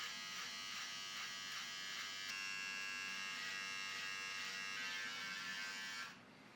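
Wahl electric beard trimmer cutting facial hair, a close, steady buzzing hum with slight pulsing as it moves, fairly quiet, stopping abruptly near the end.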